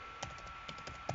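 Quiet typing on a computer keyboard during a Pokemon Red randomizer playthrough, a handful of soft irregular key clicks over a low steady hum.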